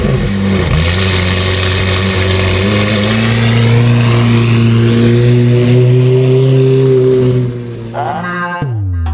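A straight-piped McLaren Senna with a race exhaust, over 900hp, revving hard and loud up close, the engine note climbing steadily before dropping off abruptly near the end.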